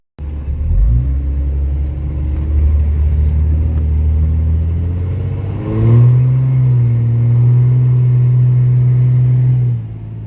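A diesel pickup truck engine roars under full throttle, its deep rumble climbing in pitch midway and holding loud and steady, close by, with no talking.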